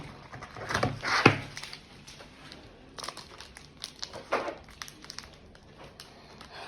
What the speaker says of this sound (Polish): Otwieramy batoniczka